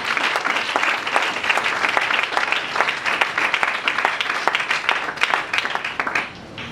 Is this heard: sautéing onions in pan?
no